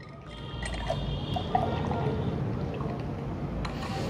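A mixed whey protein shake poured into a container, a continuous soft liquid pour and trickle lasting several seconds with a few small drips, close and moderately quiet.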